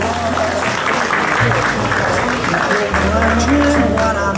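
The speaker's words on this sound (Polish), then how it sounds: "więc wielkie brawa" An audience at the Magic Malbork 2012 award ceremony applauds a sponsoring sugar company, steady loud clapping in a large hall with low music playing underneath throughout.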